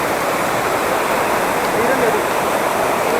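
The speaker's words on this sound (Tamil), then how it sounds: "பயங்கரமாக ஓடுது தண்ணி" A loud, steady rush of water pours continuously at Kuruvithurai waterfalls, a dense hiss filling the scene close by.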